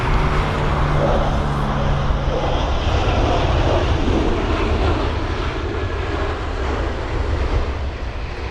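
A windy landing at London Heathrow by an aircraft, likely the Gibraltar flight, heard as a steady loud roar of jet engines with rushing wind noise that holds throughout, no voices.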